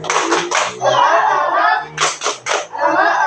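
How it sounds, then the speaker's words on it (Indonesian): A group of children in a classroom claps a rhythmic spirit clap, with bursts of loud, close hand claps in a patterned rhythm, and children's voices shouting between the claps. "1, 2, 3, tepuk semangat"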